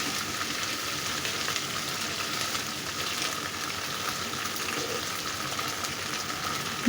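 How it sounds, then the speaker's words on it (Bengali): Ginger garlic paste hitting hot oil for a dried fish curry with aubergine and potato, giving a continuous even sizzle that holds steady close by for several seconds, with no talking. "এখানে আদা রসুন বাটা দিয়ে দিলাম"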